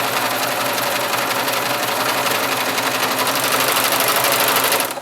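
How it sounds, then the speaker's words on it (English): A serger overlocks the raw fabric edge of a homemade face mask, running as a steady, fast mechanical whir that stays close and continuous and cuts off abruptly at the end. "I just used my serger"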